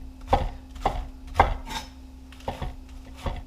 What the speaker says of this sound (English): I'm just going to thinly slice those green onions, both the white and the green part